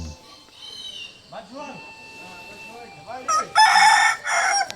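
A rooster crows loudly nearby, a long drawn-out call near the end, after softer clucking and a voice talking in the background.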